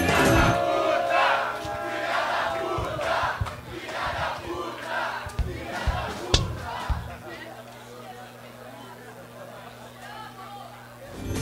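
A rowdy audience shouts and jeers against a performer at a live Brazilian podcast show with a punk band, loud crowd yelling over a steady electrical hum, with sharp thumps and voices mixed in.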